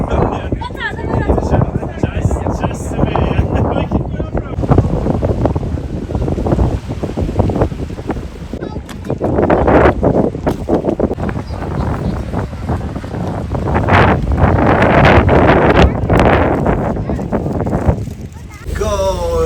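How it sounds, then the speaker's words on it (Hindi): Strong wind buffets the microphone aboard a boat at sea off the UK coast, a loud constant roar with gusty swells, while a person talks over it. "This is our boat."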